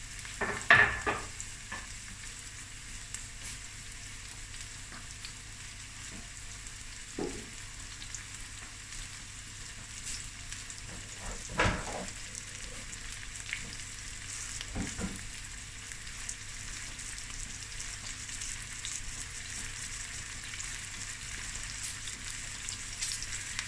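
Two large sliced onions and two chilies fry and sizzle steadily in a pan, a constant crackling hiss with occasional louder stirring scrapes, close by and without talk.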